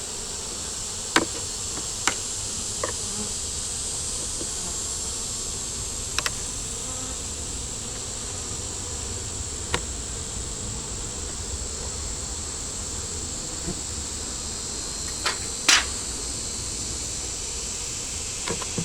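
Bees hum in a steady, dense drone around beehives, close and continuous, with occasional sharp knocks and clicks over it and no voices.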